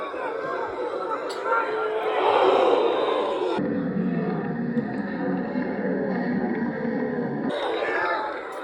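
Crowd noise from a Bath City FC football match, a broad continuous roar of many voices that swells and dips, with shouting and babble blending into a dense, echoing wash.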